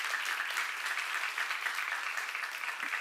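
Steady applause from a church seminar congregation, a continuous even wash of clapping at moderate distance lasting a few seconds.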